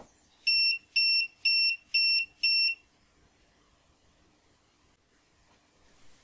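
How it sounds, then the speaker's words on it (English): Five short, high electronic beeps in quick even succession from a bin sensor's self-check, then quiet with only faint background hiss. "if everything's okay, you will hear these five beeps."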